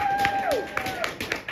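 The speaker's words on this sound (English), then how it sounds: "Give them a round of applause." Applause from an audience for artists at a fellowship's final presentations: a steady wash of clapping through the whole moment, with a sustained tone and a voice heard faintly beneath it.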